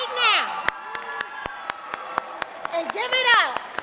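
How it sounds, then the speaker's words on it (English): At a graduation ceremony, an audience gives sharp, rhythmic claps for graduates while excited voices whoop and shout over them, the claps spaced and distinct rather than a dense roar, with lively cheering throughout. "let's give a round of applause for our graduates, everybody on their feet right now."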